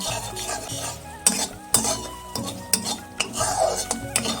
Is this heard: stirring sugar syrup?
yes